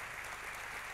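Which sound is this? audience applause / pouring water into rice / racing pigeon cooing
audience applause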